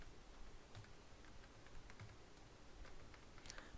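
Faint keystrokes as a password is entered on a computer keyboard, a sparse, irregular run of soft clicks with one sharper tap near the end, heard alone with no talk.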